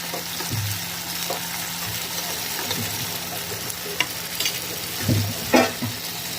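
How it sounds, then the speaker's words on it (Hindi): Tomatoes cook in a pan with green chillies, a steady sizzle running throughout while a spoon stirs in several scraping bursts, the loudest near the end. "इसे इतना पकाएंगे कि ये गल जाए टमाटर"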